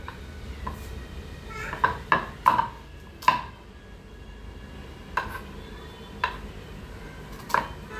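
A knife taps intermittently on a board while onions are chopped at home on a rainy day: a handful of separate, crisp knocks spaced out over several seconds, with no steady rhythm, fairly close and otherwise quiet.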